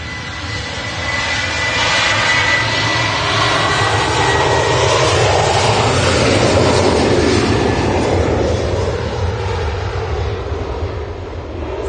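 A Ryanair airliner takes off from Manchester Airport in stormy wind, its jet engine roar loud and sustained throughout, swelling and sweeping past while gusts buffet the scene.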